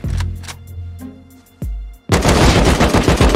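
Gunfire in the survival game Rust: a few sharp shots echo out, a pause, then a sustained rapid burst of automatic fire, loud and close.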